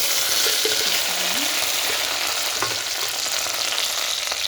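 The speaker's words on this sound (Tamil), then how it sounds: "அடுப்பில் மண் சட்டி வச்சு கடுகு போட்டு கடுகு பொரிஞ்சிருச்சு" Steady close crackle and sizzle of mustard seeds popping in hot oil in a clay pot, a continuous bright spattering with a few sharper pops, no voices.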